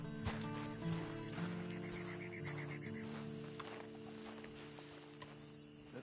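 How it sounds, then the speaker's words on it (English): Horse hooves clopping in the Red Dead Online video game, a soft irregular clip-clop under a layered ambient music bed. "And you better get on this horse."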